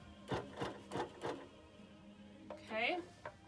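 A Bernina Q20 sewing machine runs a basting stitch in a few slow, spaced mechanical bursts, close by, with a brief voice-like sound near the end.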